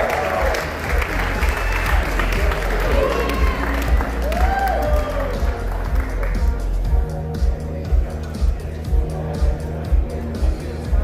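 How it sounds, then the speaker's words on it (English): Audience applause and cheering at an XRP meetup in Las Vegas, a sustained wash of clapping from a large crowd, loud and continuous, with thumping music or bass underneath. "Let's give FML a round of applause and bring him up"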